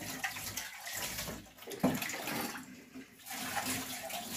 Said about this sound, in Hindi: पानी भर के लाते हैं धो लेते हैं